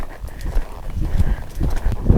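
A horse canters on a 20-metre circle in a dressage arena, its hoofbeats landing in an even three-beat rhythm, close and fairly loud, with faint outdoor noise between strides.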